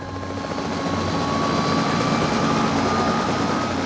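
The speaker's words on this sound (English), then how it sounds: "The noise of the chopper was going like this, like a muffled sound." A helicopter passes overhead, its rotor chop and engine whine forming a steady, loud, muffled drone that fills the whole stretch without any voices.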